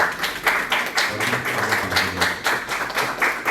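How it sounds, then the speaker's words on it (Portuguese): An audience at a panel session of a coffee and cocoa fair claps in a brisk, fairly loud burst of rhythmic hand claps lasting several seconds. "Palmas para o André,"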